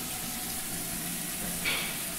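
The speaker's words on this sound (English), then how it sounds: "Got the hot water going. Gonna fill it up a little bit." A newly installed bathroom lavatory sink faucet runs hot water in a faint, even hiss that stays steady throughout, with no talking over it.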